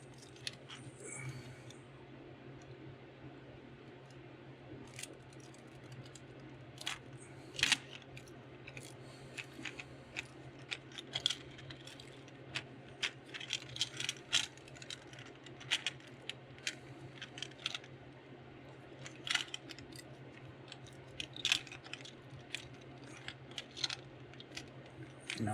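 Small scissors snip foil on a custom crankbait lure, a long run of faint, irregular crisp clicks and snips close to the microphone in a quiet room.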